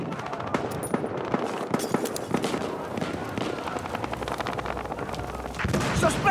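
Rapid automatic gunfire in an online Battlefield Hardline match, bursts of close, sharp shots tumbling over one another, with distant reports and a louder burst near the end.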